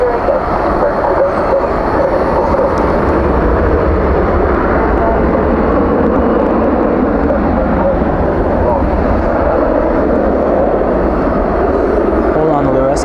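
Airliner departing from DFW airport at night, a loud continuous rumbling roar of jet engines that holds steady throughout, with a voice talking over it.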